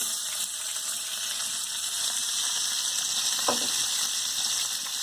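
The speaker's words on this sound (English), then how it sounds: "Let it fry for a while, right?" Food fries in a pan with a steady, dense sizzle that holds even and continuous throughout, close by, with a faint brief scrape partway through and no talk.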